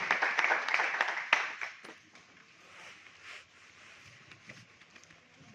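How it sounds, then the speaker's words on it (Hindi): Audience applause at an RCM business seminar, a burst of clapping that starts strong, then thins and fades to scattered claps over the remaining seconds. "और आप लोगों की जोरदार तालियों के बीच"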